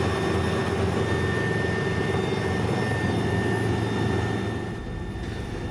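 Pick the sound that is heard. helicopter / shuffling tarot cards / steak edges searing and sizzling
helicopter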